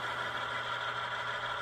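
Steady mid-pitched motor hum from a model train locomotive on a home layout, running hard at a constant revving drone with a faint low buzz, close and continuous with no talk.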